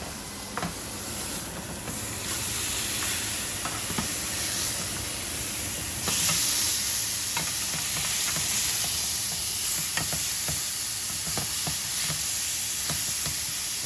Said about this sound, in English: I'm going to let it sear for about 3-4 minutes on each side